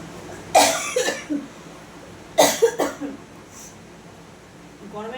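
Two bursts of coughing from a person with a cold, each a cluster of harsh hacks close to the mic, separated by a quiet pause.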